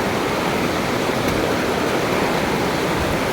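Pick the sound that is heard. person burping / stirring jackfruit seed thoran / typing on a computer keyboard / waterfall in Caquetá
waterfall in Caquetá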